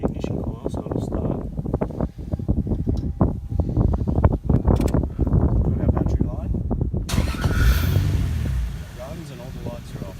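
A Toyota Supra's engine cranks and starts after an alternator repair, the engine noise running steadily throughout, with someone talking over much of it and wind buffeting the microphone near the end.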